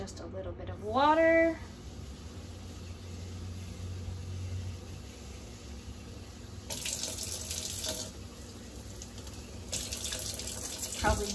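A kitchen tap runs water into a container, filling it with just a little water; a steady broadband rush underlies the clip, with a brief louder burst near the start and other noises later.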